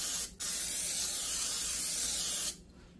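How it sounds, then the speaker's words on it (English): A steady hiss of aerosol cooking spray onto a baking tin lasting a couple of seconds after a brief first puff, close and alone. "we're just gonna go ahead and spray our tin"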